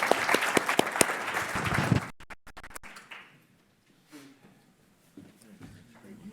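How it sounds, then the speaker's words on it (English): Brief applause for panelists at a conference on digital economy infrastructure, dense and fairly loud for about two seconds and then cutting off abruptly, followed by quiet room noise and faint voices. "please round of applause for the panelists"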